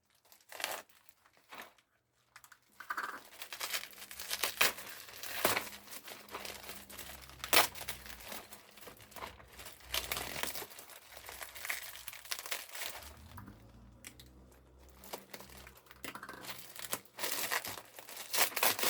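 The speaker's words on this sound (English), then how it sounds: "Let's open up the packaging." Packaging from an art supply subscription box is torn open, with plastic wrapping crinkling and rustling close up in bursts and pauses.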